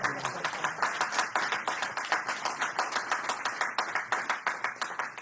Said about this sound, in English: Round of applause for Melissa.